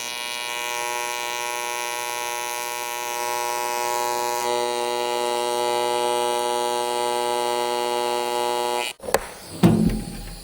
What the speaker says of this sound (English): I just welded that bung in.